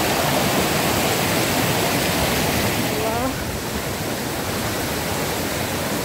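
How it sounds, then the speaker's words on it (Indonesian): Turgen waterfall in Kazakhstan's mountains pours as a steady, loud broadband rush of falling water, constant throughout with no pauses, filling the whole clip close by. "Air terjun, air terjun."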